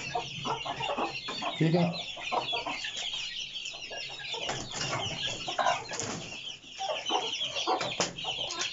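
An aseel hen clucks in short, scattered calls, close by and fairly loud, while someone talks briefly nearby and other fowl stir in the background.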